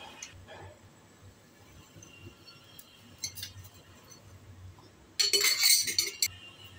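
Tomato sauce ingredients, including salt and sugar, stirred with a utensil in a bowl, faint scraping and soft clinks that end in a louder burst of clattering near the end, no talking.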